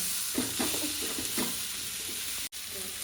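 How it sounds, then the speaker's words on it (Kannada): Chopped tomato frying on a hot tawa as a burger filling, with a steady broadband sizzle and a few soft stirring scrapes in the first half, ending in a brief dropout. "ಇವಾಗ ಟೊಮೆಟೊನ ಒಂದು 2-3 ನಿಮಿಷ ಫ್ರೈ ಮಾಡ್ಕೊಳ್ಳಿ"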